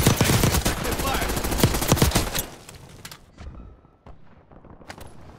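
Gunfire in Call of Duty Warzone Resurgence on Area 99: dense rapid bursts of automatic shots, loud and close for about two seconds, then scattered fainter shots further off.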